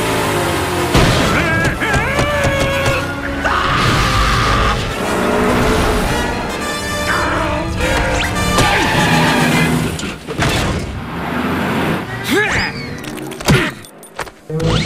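A cartoon bus with failed brakes skids and screeches over busy music and effects, with engine roar, squealing tyres and crash-like bangs, while voices speak at points.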